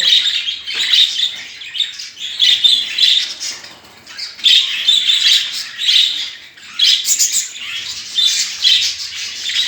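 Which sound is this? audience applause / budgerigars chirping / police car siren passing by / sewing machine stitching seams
budgerigars chirping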